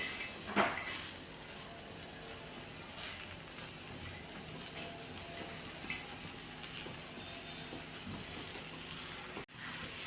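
Onion fries over a high gas flame in a pan, giving a constant soft sizzling hiss with a few faint pops, heard alone and fairly quiet, with a brief drop near the end.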